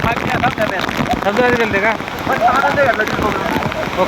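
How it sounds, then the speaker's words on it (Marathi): Heavy rain hisses steadily on a surface at Amboli waterfall in Konkan while people talk over it throughout. "जोराचा पाऊस चालू आहे"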